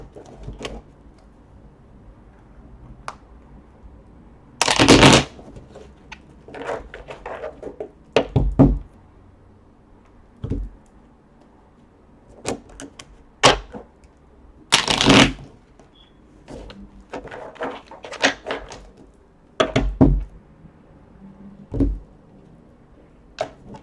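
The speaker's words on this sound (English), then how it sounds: "Two more shuffles." Tarot cards are shuffled in several quick riffling bursts, close and crisp, separated by soft taps and pauses.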